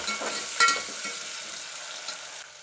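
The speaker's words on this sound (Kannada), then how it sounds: "ಒಂದ್ಸಲ ಫ್ರೈ ಮಾಡ್ಕೊಳ್ಳಿ." Onions and crushed garlic frying in a pan while beans palya is being cooked, giving a steady sizzle that fades slightly toward the end, with a brief louder stir or clatter near the start.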